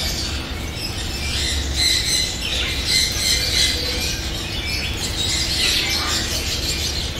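Blue and gold macaws in a bird shop squawk and screech in repeated harsh calls over a busy background of other birds chirping nearby.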